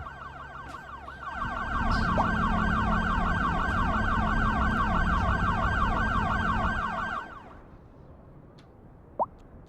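Ambulance sirens wail in Cities Skylines II, a loud, steady cycling electronic siren rising and falling for several seconds before cutting off, followed by quieter ambient game sounds and a brief high chirp.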